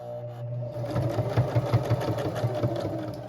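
A sewing machine stitches fabric for a Christmas tree pillow, running in a fast, steady series of close, pulsing stitches with no talking.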